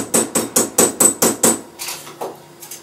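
A hammer flattens jewellery wire against a flat metal surface: seven sharp, evenly spaced metallic strikes, loud and close, followed by a few softer, quieter taps.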